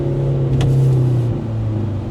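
A Mercedes-AMG car's engine drones steadily with a low exhaust note, holding a sustained tone that shifts slightly mid-way, heard from inside the cabin with no talking.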